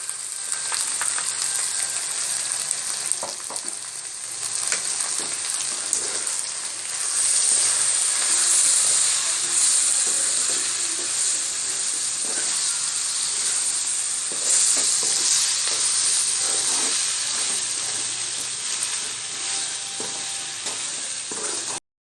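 Cluster beans stir-fried with a ground powder paste sizzle steadily in a pan, a continuous close, fairly loud frying hiss with light stirring scrapes throughout.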